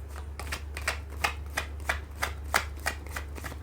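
Tarot cards are shuffled by hand in a steady rhythm of about a dozen crisp riffling snaps, close and clear over a low constant hum, with no voices.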